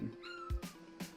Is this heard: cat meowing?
yes